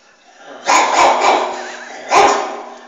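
A person imitates an old dog barking, voicing a short cluster of hoarse, close barks, a pause, then one more gruff bark.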